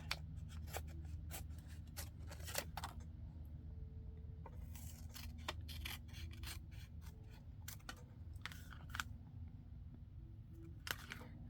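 Scissors snipping paper to make a cover for a Dollar Tree mini composition notebook, a quiet series of irregular crisp cuts and rustles, close up, with no talking.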